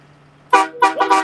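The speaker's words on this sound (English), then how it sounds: "Air horns are meant to be loud." A truck air horn honking in a city street during a convoy protest, one loud blast followed by two shorter bursts in quick succession, close and dominant.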